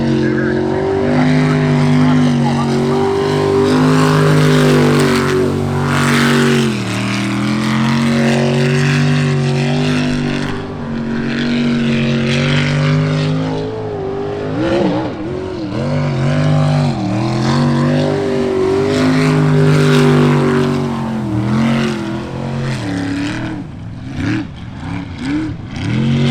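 Loud, high-revving engines roar continuously as sprint boats race past, the pitch rising and falling with each pass.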